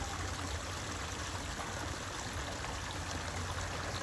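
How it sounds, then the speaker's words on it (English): Water from a small backyard waterfall on a garden property runs steadily, a close, continuous rushing trickle with no talk over it. "And just watch my little waterfall that runs right across the back of my property."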